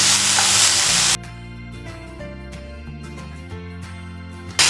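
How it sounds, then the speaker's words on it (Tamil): Grated coconut sautés in a pan for varutharacha kuzhambu, a loud close sizzle lasting about a second before it is replaced by steady background music. "ஃபைனலாக தேங்காவும் ஒரு 2 நிமிஷம் நம்ம வதக்கிக்கலாம்"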